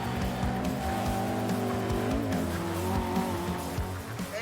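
A Mark 1 Lotus Cortina with a twin-cam 1.6-litre engine racing at Cadwell Park, its buzzing, high-revving engine note rising and falling as it is driven hard, with tire squeal and no speech.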